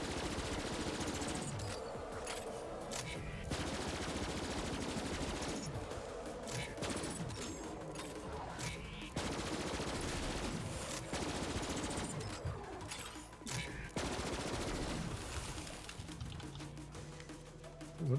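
Gunfire strikes the player in Borderlands 3. Rapid, repeated bursts of shots and impacts come in clusters over a long stretch and sit fairly loud against the game's sound bed.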